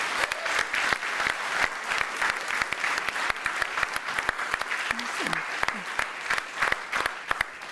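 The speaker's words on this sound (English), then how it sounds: "I really would like to give them a warm applause" Warm applause from a conference audience after startup pitches at an eMobility startup award, a steady patter of many hands clapping throughout, moderately distant, with brief murmurs underneath.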